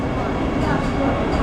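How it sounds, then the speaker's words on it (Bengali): The Howrah-Ranchi Vande Bharat Express rolls out of Purulia Junction at night, a steady close rumble of wheels and carriage noise filling the moment. "ট্রেন আমাদের ছেড়ে দিল, ঠিক ছাড়লো 9:45-এ"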